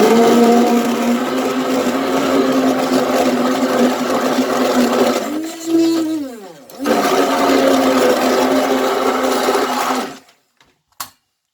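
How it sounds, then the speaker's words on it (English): A hand blender whirs loudly and steadily while whipping beans for akara, briefly dipping in pitch midway as it bogs down, then revving back up before cutting off with a few clicks. "in the process of using the hand blender, you still ideally use it to fluff off the beans"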